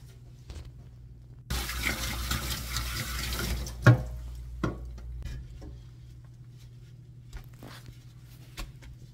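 Running tap water rinsing out kitchen gear after making homemade tofu, a steady close splashing stream lasting several seconds, with a brief clunk partway through before it stops and only quiet handling noises remain.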